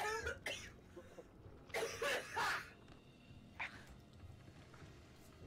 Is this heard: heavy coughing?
yes